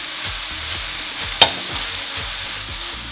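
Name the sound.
stirring vegan fried rice with tofu in a hot pan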